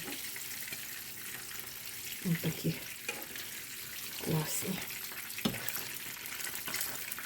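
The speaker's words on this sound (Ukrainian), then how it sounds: "Посмажили з одної сторони, перевернула на другу." Pies with cheese and spring greens fry in a pan, a soft steady sizzle broken by a few louder crackles and pops, while someone speaks briefly over it.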